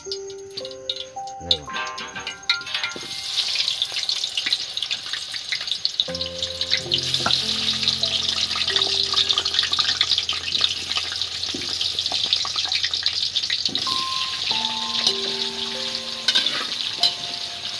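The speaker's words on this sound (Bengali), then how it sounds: "তেলটা তেতে গেছে, এবার আমি এই আলু ছাড়তে থাকবো" Potatoes for a Kashmiri aloo dum are dropped into hot oil and fry with a loud, steady sizzle and crackle. Musical tones run beneath for most of the stretch, and the frying carries on without a break.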